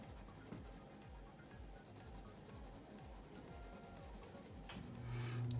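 Crayon or colored pencil scrubbed back and forth across paper while coloring a pumpkin shape in warm orange, a soft steady rubbing scratch, close and continuous with no talk.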